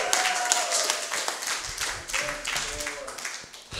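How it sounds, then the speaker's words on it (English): A church congregation claps together in a dense burst of handclaps, loud and close, with scattered voices calling out over the sound. "give Him one more big hand clap"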